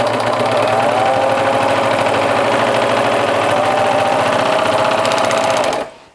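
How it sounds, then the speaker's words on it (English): A serger overlock machine sewing a fabric seam runs steadily with a loud, close, rapid mechanical whir and chatter for about six seconds, then winds down to a stop, with no talk over it. "I'm going to serge this seam up here."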